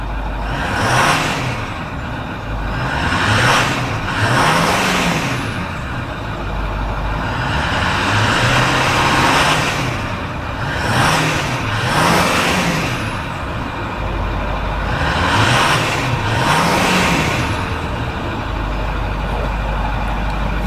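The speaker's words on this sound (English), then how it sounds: "Very smooth running engine." A 2010 Ford F550 Super Duty truck engine runs steadily, a low rumble with recurring rising and falling tones and periodic swells in loudness, no voices.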